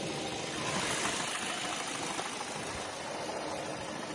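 A 2018 Sonata New Rise with a 2.0-litre gas engine and 127,000 km on it idles steadily at close range, giving a continuous even hum with faint vibration and no voices.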